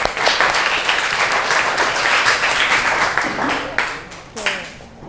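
A classroom group claps for the fourth presenting group, a brisk scattered round of hand claps with a few louder individual claps, fading toward the end with a voice briefly under it.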